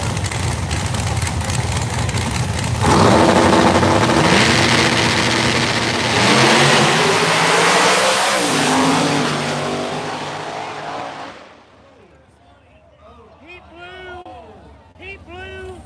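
A no-prep drag race Firebird launches down a wooded track, a loud roaring engine climbing through revs and fading into the distance, then crowd noise and talk after the pass, with a voice over the start.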